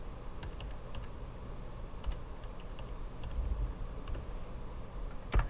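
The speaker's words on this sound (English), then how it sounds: "Typing is an important thing." Typing on a computer keyboard during command-line work, a quiet steady patter of key clicks with a few sharper taps, close but faint over low background hum.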